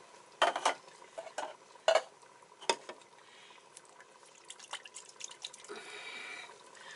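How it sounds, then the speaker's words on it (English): Water is poured into an emptied diced-tomato can and swirled while chili beans are prepared for a pressure cooker: sharp metallic clinks and knocks early on, then soft splashing and a steady swishing rinse near the end, with no talk. "Put some water in this can."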